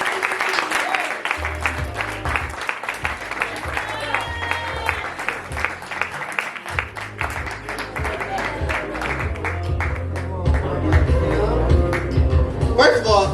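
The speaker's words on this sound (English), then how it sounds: "give Mama Q another round of applause" An audience at a Juneteenth poetry anniversary celebration breaks into sustained applause with cheers and crowd noise, loud and continuous throughout, with voices calling out over the clapping.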